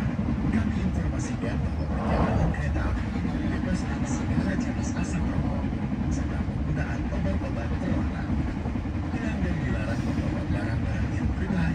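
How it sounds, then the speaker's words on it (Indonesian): A Gumarang long-distance passenger train passes through Bekasi station with a heavy, continuous low rumble and rolling clatter throughout. Murmuring voices sit faintly beneath the train noise. "Kereta api Gumarang sudah melintas"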